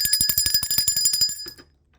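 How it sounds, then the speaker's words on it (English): A bicycle-style bell rings in a quick, rhythmic flurry of bright metallic dings for about a second and a half, then stops abruptly into silence. "Just ring the bell for that."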